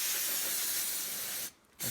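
An aerosol cleaner can sprays onto a Craftsman gas-powered reel mower part in a loud, close, continuous hiss that cuts off briefly, then resumes.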